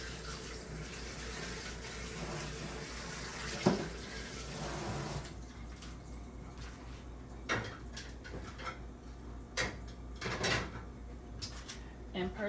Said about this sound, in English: Good news is the water did come back on while I was doing this